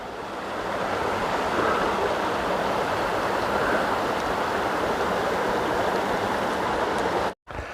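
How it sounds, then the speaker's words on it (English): A river flowing along the Appalachian Trail, a steady broad rush of water heard from nearby, continuous and even with a little wind, ending in a brief cut. "take a look at this river here"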